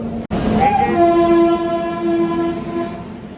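Kumbh Mela special train at a railway platform sounds a loud, sustained horn with steady harmonic tones lasting about two and a half seconds, alone and close by.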